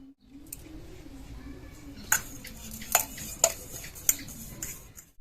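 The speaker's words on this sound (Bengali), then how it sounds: "বাটিটার ভেতরে আমি এবার তেল মাখিয়ে নেব।" Oil being spread inside an aluminium bowl to grease it before cake batter goes in, with light scraping and a run of bright metallic clinks in the middle and later part.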